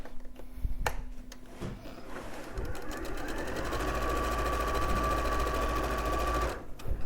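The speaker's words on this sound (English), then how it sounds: "We're going to sew those raw edges there in the middle." Sewing machine sewing the raw edges in the middle of a disappearing nine-patch quilt, starting with a few clicks then settling into a steady, rising whir, close up and without talk.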